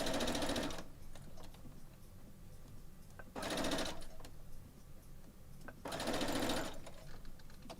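A sewing machine stitching a quilt block, running in three short fast bursts of rapid needle chatter with quiet pauses between them, close and clear.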